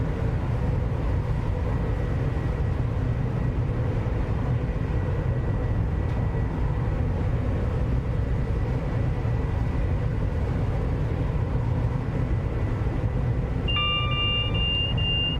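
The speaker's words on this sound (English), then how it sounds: "There goes the alerter" Class 350 train alerter in Train Sim World 5 gives a sharp, steady electronic tone near the end, over a constant low rumble of the moving train cab.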